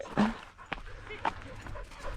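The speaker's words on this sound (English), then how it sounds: "Oh boy, so many dogs." Several dogs on an outdoor running trail, with a few short yips or barks and panting-like bursts scattered through, close by, mixed with people talking nearby.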